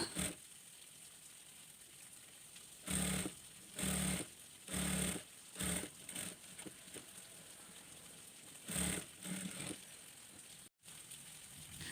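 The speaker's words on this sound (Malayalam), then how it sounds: "ഒരു പ്രസർ അകലത്തിൽ വെച്ച് നമുക്കിതുപോലെ ഫുള്ളായിട്ട് സ്റ്റിച്ച് ചെയ്തെടുക്കാം" A sewing machine stitches an abaya collar in short bursts. About six quiet runs of the motor whir and rattle, separated by pauses, with no talking.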